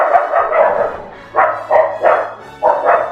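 Two pet dogs, Cooper and Abby, bark close and loud indoors, several sharp barks in short bursts with brief gaps between them.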